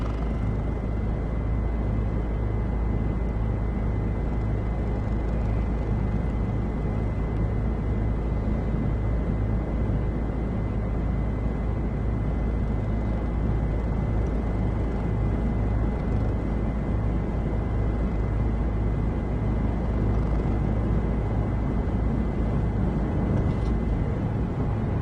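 Helicopter in the X-Plane 11 flight simulator game, a steady, loud rotor and engine drone with low rumbling hum holding constant throughout, no talk over it.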